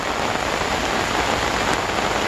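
Heavy rain pours steadily onto a river during a fishing trip, a dense continuous hiss that fills the whole moment with no voices.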